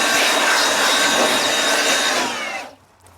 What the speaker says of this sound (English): Now let's quickly blow the saw off.